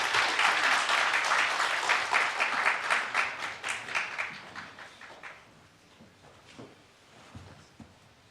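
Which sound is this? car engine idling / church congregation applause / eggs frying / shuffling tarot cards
church congregation applause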